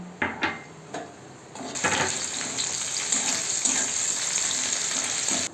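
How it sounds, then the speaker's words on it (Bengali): Whole cumin seeds and dried red chillies dropped into hot mustard oil in a heated wok give a brisk, bright sizzle and crackle after a few sharp clatters of utensils, steady and close. "এর মধ্যে আমি সরিষার তেল দিয়ে দিলাম। গোটা জিরে আর গোটা শুকনো লঙ্কা দিলাম।"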